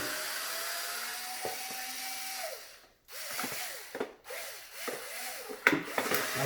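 A Hoover Sprint vacuum cleaner is taken apart by hand, with close rubbing, scraping and clicking of parts in uneven bursts and brief pauses.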